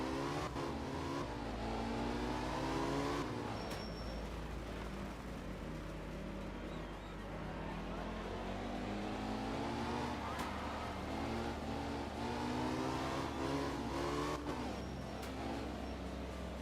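A Porsche rally car engine in Art of Rally in Sardinia, revving steadily with rising and falling pitch through gear changes, loud and continuous throughout.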